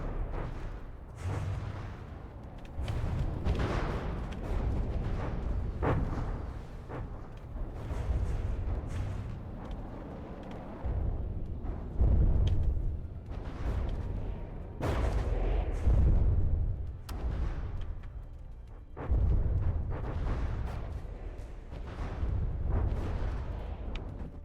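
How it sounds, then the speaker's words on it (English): Ship main guns firing shells in the naval combat game From the Depths, a steady series of heavy booming blasts repeating every second or two over a continuous low rumble, with no talk. "there's the shells from one of our ship's main guns just not hitting"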